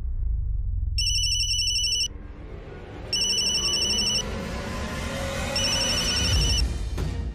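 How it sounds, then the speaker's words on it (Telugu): A telephone rings in a home scene, giving three bright electronic ringtone bursts separated by short pauses, loud and near over a low background hum. "ఫోన్ వచ్చింది"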